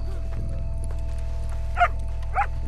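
Two short dog barks or yelps in Red Dead Redemption 2, a moderately distant animal call heard over a steady low game hum and ambient background.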